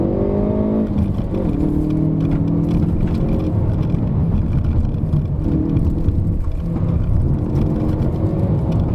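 A Hyundai i30 N engine runs steadily throughout, with rising and falling revs as the car drives a hillclimb road, loud and close.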